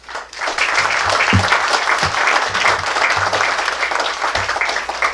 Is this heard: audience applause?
yes